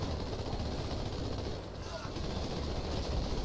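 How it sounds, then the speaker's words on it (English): Gunfire and explosions in the Halo 2 Anniversary video game rattle as a dense, continuous barrage of shots and blasts at moderate level, with a brief dip midway. "Whoa, what was with those explosions?"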